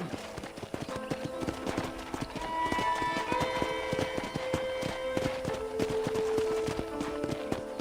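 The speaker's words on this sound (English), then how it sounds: "I picked out a fine horse for you." Steady, rapid horse hoofbeats from Red Dead Redemption clop along in a rhythmic trot, with tonal music playing underneath throughout.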